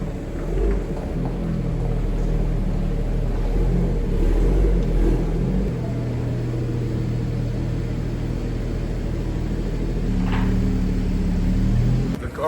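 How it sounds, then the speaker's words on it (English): A BMW 340M rolls slowly into a paint booth, its engine a low steady rumble that swells briefly, heard at close range in an enclosed space without talk. "Let's go ahead and pull in the Beamer in the booth."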